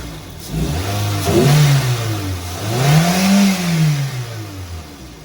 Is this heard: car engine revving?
yes